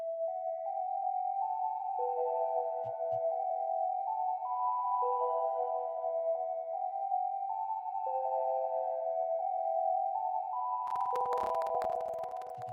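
A smooth synth in FL Studio plays a slow melody of sustained, gliding tones with a soft, spacious reverb tail, alone and steady, ending in a brief burst of noise.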